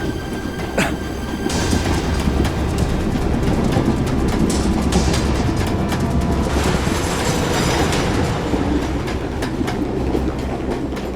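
A moving train rumbles loudly and steadily from inside, with continuous clatter, rolling noise and some rhythmic clickety-clack throughout, with no voices.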